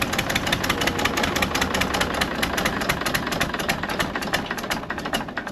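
An old Allis dozer engine idles on a Western Australian sheep farm, a steady, close, rough chugging with a rapid knocking pulse throughout and no voices.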